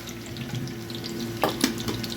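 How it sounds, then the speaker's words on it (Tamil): Mustard seeds with a little fenugreek fry in hot oil, giving a soft, steady sizzle with a few brief crackling pops near the end, close and fairly quiet. "எண்ணெய் காஞ்சிட்டு கடுகு சேர்த்துருக்காங்க கடுகு கூட கொஞ்சம் வெந்தயம் சேர்த்துருக்காங்க"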